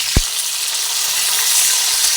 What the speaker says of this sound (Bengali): প্রথমে দুটো মাছ দিলাম এ দুটো ভাজি